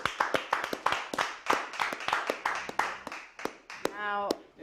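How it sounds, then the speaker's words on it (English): A small group claps sparse, distinct hand claps in an uneven rhythm, heard close, with a voice briefly exclaiming near the end. "Round of applause, Slim."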